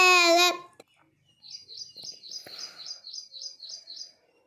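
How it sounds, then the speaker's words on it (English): A parrot gives a string of rapid, evenly spaced chirping calls, repeated about ten times close to the microphone, after a short burst of a voice singing. "P for parrot."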